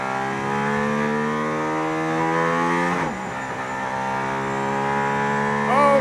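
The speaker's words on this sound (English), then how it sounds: "I'm sitting in the AMG ONE on a racetrack behind the Formula One safety" A Mercedes-AMG ONE hypercar engine howls on a racetrack behind a safety car, a strong, tightly harmonic drone heard from inside that climbs steadily, dips sharply mid-run as revs fall, then rises again toward the end.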